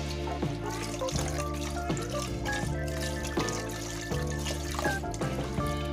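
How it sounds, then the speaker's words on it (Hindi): Cold water is poured over freshly made paneer: a steady, close trickle and splash of water runs continuously with a few soft knocks, no voices. "ये जो पनीर है इसके ऊपर हम थोड़ा सा ठंडा पानी डाल देंगे"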